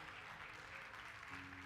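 A church congregation claps together during an evening worship service, a dense, steady wash of applause filling the room for a couple of seconds with no pause.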